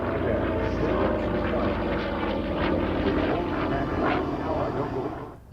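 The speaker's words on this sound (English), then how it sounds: "As you watch these magnificent airplanes fly by, don't forget." Vintage warbirds at an airshow, including an FG-1D Corsair, Catalina and TBM Avenger, roar past with a loud, sustained propeller-engine drone that swells and fades slightly, with voices faintly mixed in.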